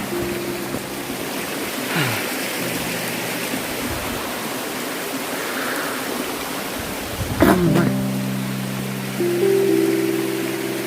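Continuous rushing of a flowing stream at Raikal near Warangal, steady and broadband, with a few brief voice fragments and a knock partway through.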